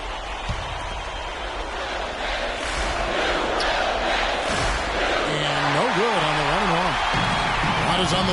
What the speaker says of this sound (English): How about the intensity and focus of the crowd here? So loud in this place.